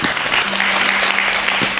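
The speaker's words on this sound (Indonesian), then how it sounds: "Tepuk tangan buat Ahilman." A short burst of close, loud clapping from a congregation at an Islamic religious talk, with a steady hum underneath.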